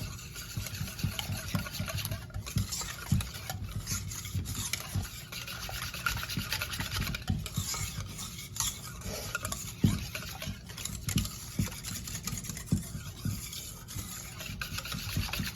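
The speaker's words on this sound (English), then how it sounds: "Okay, let's whisk this up." Bread yeast mixture being whisked in a bowl for a large-batch homestead bread: a rapid, steady scraping and rubbing of the whisk against the bowl, close up and continuous with no voices.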